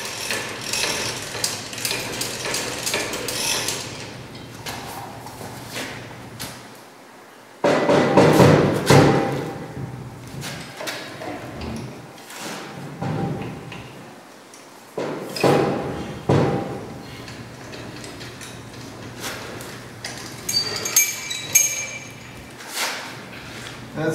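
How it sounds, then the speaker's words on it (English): A 5 1/4 inch diameter, 33 inch long bar of 303 stainless steel is machined on a chuck for a pressure equalization valve part, with grinding mechanical noise in uneven bursts and occasional clunks and thuds. "let's see some machining and how this part was created."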